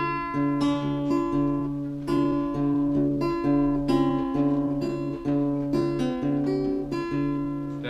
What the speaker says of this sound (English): but with the alternating bass in, it kind of sounds like this.